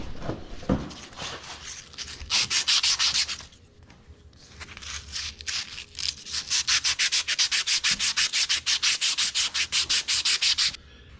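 Sanding on an Oliver tractor axle during axle seal replacement comes as fast, rhythmic rasping strokes in two long bursts, close and steady, with a brief pause between them and no talk.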